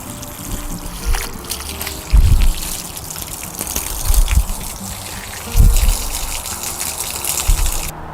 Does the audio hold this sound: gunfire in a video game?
no